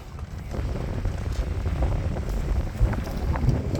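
Strong 25-knot wind blowing across a sailboat at sea, heavy continuous buffeting roar on the microphone with a deep rumble, steady and loud throughout, with no talk.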